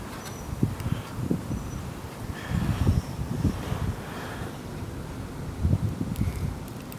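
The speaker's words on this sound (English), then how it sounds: "the wind is picking up" Wind gusts during a snowstorm in a Richmond, Virginia neighborhood, blowing across the microphone as faint, uneven rumbling surges that swell and fade several times, with no talking.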